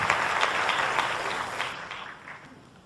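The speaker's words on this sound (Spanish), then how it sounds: "Le damos un aplauso de felicitación." An audience at an international symposium gives congratulatory applause for an archbishop, a dense clapping that gradually fades over about three seconds.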